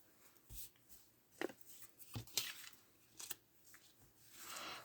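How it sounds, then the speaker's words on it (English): Scissors snipping through a paper straw banner, a few short separate cuts spaced apart with quiet gaps between them, close and fairly faint. "And take and just cut to the dot."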